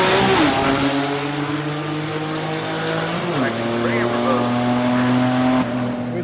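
A drag racing truck launching off the line at the green light, engine roaring loud and close with gear-change drops in pitch as it pulls hard away, tires squealing.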